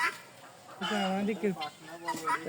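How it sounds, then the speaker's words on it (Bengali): Chickens, both roosters and hens, at the Dulahazara Safari Park in Cox's Bazar, giving a few close, loud clucks and squawks in short bursts against a quiet background. "সব মোরগ মুরগি"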